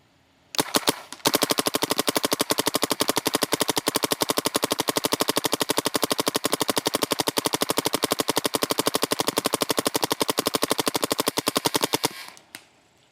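A BT TM15 paintball marker fires full auto at a target, unleashing a long, rapid, evenly spaced burst of sharp loud pops after a few single shots, ending abruptly with a couple of stray clicks.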